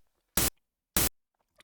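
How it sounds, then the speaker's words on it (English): Two short bursts of broadband white noise test signal from audio software, each about a sixth of a second, separated by silence, moderately loud and alone. "I'm gonna turn off the white noise."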